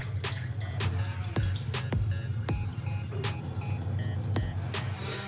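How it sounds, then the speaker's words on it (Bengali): Rice being washed in water, with splashing, dripping and the clatter of grains and a vessel, a busy close wet swishing that continues throughout with no voices. "চালটা ভালো করে ধুয়ে নিতে হবে"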